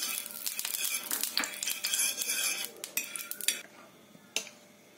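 Oil is spread across a hot griddle for raw banana dosa, with clinking and scraping of a metal utensil on the pan in short bursts over a faint sizzle, ending in a sharp knock.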